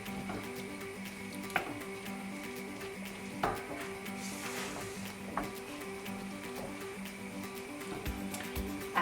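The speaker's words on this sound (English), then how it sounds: "Work it in with your wooden spoon until there's no flour showing." Flour being worked into a beef-stock sauce with a wooden spoon, a steady sizzle under repeated scraping strokes and occasional knocks against the pan, close and alone with no voices.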